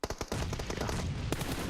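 Automatic gunfire in a PUBG Mobile esports match, with a few sharp shots at first, then a dense, sustained burst of rapid fire that continues loud to the end.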